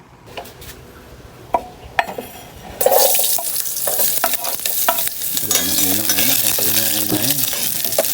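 Sinampalukan is stirred and fried in a pan, with a few sharp utensil knocks early, then a loud, close sizzle and scraping stirring that continue to the end.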